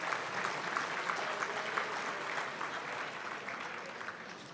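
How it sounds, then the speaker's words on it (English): Dinner guests at a fundraising banquet give a round of applause for the servers and chef, a dense, even wash of clapping from a large room that holds steady throughout. "let's have a round of applause for your servers and the chef and everybody involved in this wonderful meal tonight"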